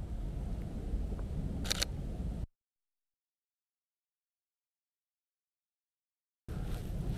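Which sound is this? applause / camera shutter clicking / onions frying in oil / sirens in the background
camera shutter clicking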